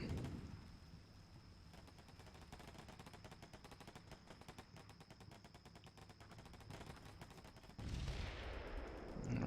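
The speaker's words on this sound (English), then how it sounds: "So we're shooting up these buildings a little bit." Distant gunfire in a tactical military game as buildings are shot up, long runs of fast, faint rattling shots over a steady background hum, with a louder rumble near the end.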